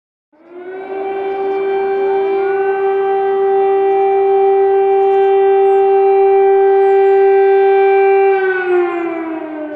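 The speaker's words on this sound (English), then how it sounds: "Sirens are now commonplace in the once peaceful city of Kyiv." An air raid siren wails over Kyiv, rising from silence into a loud, steady, sustained tone that holds for several seconds before beginning to fall, heard alone with no voices.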